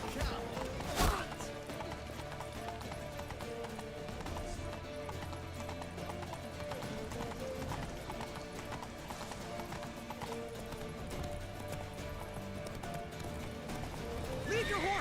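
Horses gallop in The Witcher video game with a continuous rhythmic clatter of hooves, amid neighing and bustle, with voices occasionally heard over the action.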